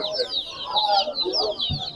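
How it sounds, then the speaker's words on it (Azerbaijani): Village chicks and chickens cluck and peep continuously at a crowded outdoor poultry market, with high chirping throughout and faint background voices. "Kənd cücələri."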